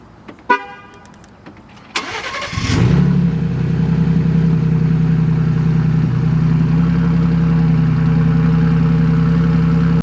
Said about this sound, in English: let's go ahead and get some sound clips, starting with a cold start,